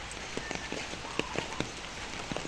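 Rain falls steadily as a soft, faint hiss, with scattered distinct drips and taps landing irregularly on nearby surfaces.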